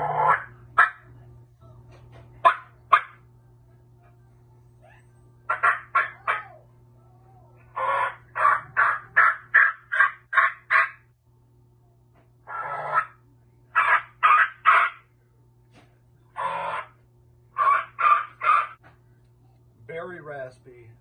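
A person imitates a wild turkey with Spur-Ma-Gettin mouth calls indoors, producing raspy, loud yelps in short rhythmic bursts and series separated by pauses, with a low steady hum underneath.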